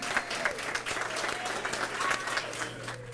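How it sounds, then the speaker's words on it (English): An audience at an educator awards ceremony gives sustained applause, dense clapping with a few sharper individual claps standing out, continuous throughout without pause. "Give them another round of applause"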